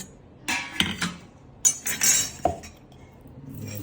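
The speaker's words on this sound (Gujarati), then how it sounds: "બરફ નાખો ને" Ice cubes drop into glasses for jamun shots at home, giving several sharp clinks and rattles in short bursts close by.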